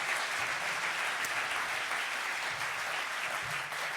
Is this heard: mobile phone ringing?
no